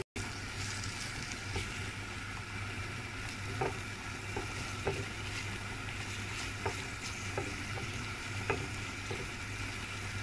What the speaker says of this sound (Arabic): صافي كنخلي هاد البصيله كتشحر لي مزيان